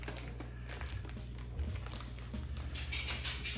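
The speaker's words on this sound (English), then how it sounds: "Maybe the cellophane bag is. Do a nice little tie." A cellophane bag is twisted and tied shut, giving close, crisp crinkling and rustling with small taps, steady and fairly loud for a few seconds.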